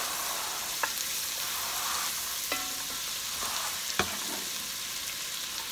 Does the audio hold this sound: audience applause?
no